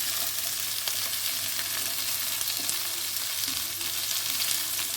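Previously fried potatoes hiss and sizzle steadily in a frying pan as they are stirred into a vegetarian ridge gourd and lentil-dumpling curry, a constant close frying noise with faint scraping.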